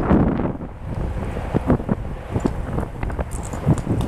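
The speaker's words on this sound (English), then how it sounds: "It is so windy out here." Strong wind buffeting the microphone outdoors at an abandoned truck stop, a loud continuous rumbling roar with gusty surges and no voices.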